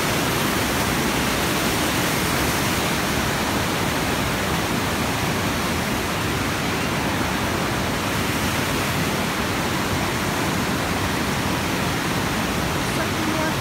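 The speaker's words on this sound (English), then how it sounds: "that's the waterfall" The waterfall at Dight's Falls rushes in a steady, broadband roar, close and unbroken, with no changes in intensity.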